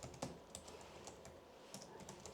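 Quiet, rapid computer keyboard typing in an indoor setting: a string of soft, irregular key clicks with a few sharper taps, heard alone at low volume.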